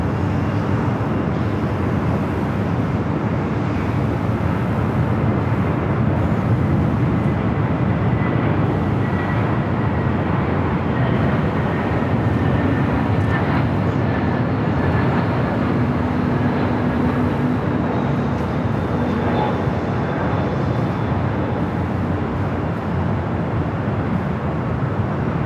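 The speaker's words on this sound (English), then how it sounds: "Next arrival is American Airlines Flight 1672 coming in from Dallas Fort Worth, Texas, an A321" An American Airlines Airbus A321 arriving at LAX from Dallas Fort Worth rumbles steadily from a distance, a fairly quiet jet roar with faint whining tones that drift across the middle, and no talk over it.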